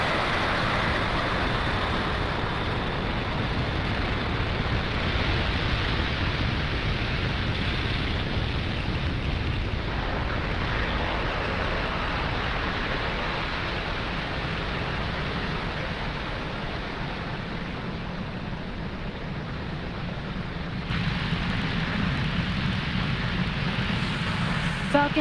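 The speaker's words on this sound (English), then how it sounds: "Falcon 9 has successfully lifted off from pad 40 and throttled down to prepare for max Q" Falcon 9 rocket engines roaring at liftoff from pad 40 in the Spaceflight Simulator game, a steady loud broadband rumble that holds evenly throughout.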